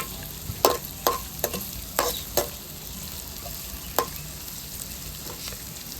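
Sharp scraping stirs of a spatula in a pan over a steady sizzle of onions and chillies frying, several irregular strokes, close and fairly quiet, with no talking.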